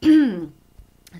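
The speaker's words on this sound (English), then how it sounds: "you get like that little tickle in the back of your throat, and then it's like you have to start coughing" A throat clearing followed by a short cough, loud and close at the start, then quiet with faint small noises after.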